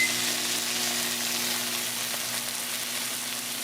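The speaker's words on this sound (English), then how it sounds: "Microwave is running. The steak is cooking." A running microwave cooking a steak, heard as a steady hum with a soft sizzling hiss inside, constant and close, without any voices.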